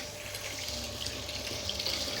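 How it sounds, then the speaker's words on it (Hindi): Tap water running steadily into a sink, carrying mud and sand, a constant close splashing hiss with no pauses and no talk. "हमारा पानी में आ रहा है मिट्टी।"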